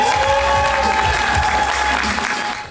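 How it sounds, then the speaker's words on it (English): A live audience in Detroit gives dense, sustained applause and cheering to welcome Nate Parker onstage, loud and continuous before tapering at the very end. "please give me a warm welcome, round of applause, and welcome the incredibly brilliant Nate Parker"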